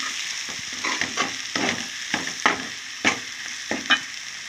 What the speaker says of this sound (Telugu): ఇందులో ఉల్లిపాయలన్నీ బాగా ఫ్రై అయిపోతాయి.